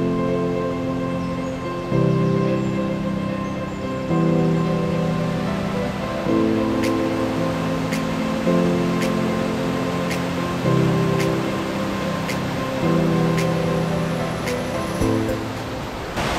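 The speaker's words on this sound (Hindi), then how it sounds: "तो ये एक स्मॉल झरना" The small Lepcha waterfall at Sittong, Jogighat, makes a steady, broad rush of falling water throughout, with a few faint voices underneath.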